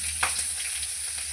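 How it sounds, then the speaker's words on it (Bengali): Nigella seeds and two green chillies hit hot oil for a tempering, giving a bright, continuous sizzle and crackle with a few sharper pops near the start, close and fairly loud. "কালো জিরা আর কাঁচা লঙ্কার ফোড়ন দেব"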